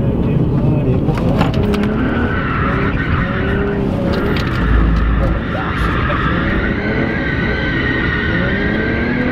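A heavy car drifts and spins out, with tire squeal and a revving engine loud and continuous throughout, and voices talking over it.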